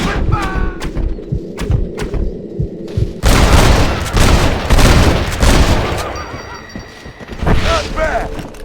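Gunfire in the Red Dead Redemption video game, opening with sharp separate shots and then bursting into a dense, loud barrage of booms and thuds, with a few scattered shots trailing off afterward.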